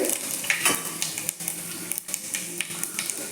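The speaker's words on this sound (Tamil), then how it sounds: "எண்ணெய் காஞ்சிருச்சு வெந்தயம் சீரகத்தை வெடிக்க போட்டாச்சு" Fenugreek and cumin seeds splutter and crackle in hot oil in a pan for an egg tamarind curry, a steady close sizzle with scattered sharp pops and a brief stir partway through.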